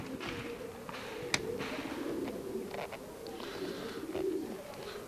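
Fancy breed pigeons coo softly in steady low rolling calls, with a few sharp clicks and light rustles over a quiet background.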